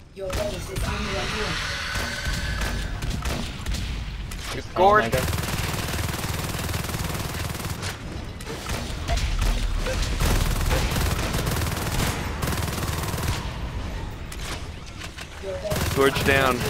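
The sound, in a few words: gunfire shooting at a fade in Natural Selection 2 video game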